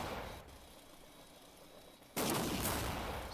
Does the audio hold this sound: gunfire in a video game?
yes